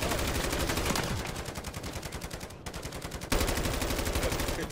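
A sentry gun fires nonstop in a zombies video game, a loud rapid stream of automatic gunshots with a brief pause midway before the rattling bursts resume at full intensity.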